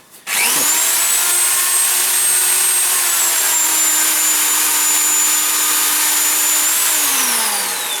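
A Stark HM-1350 PRO handheld construction mixer starts up and runs at a loud, steady high-pitched whine, with a slight drop in pitch near the end and no talking.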